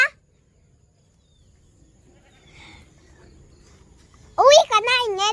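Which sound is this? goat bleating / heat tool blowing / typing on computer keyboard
goat bleating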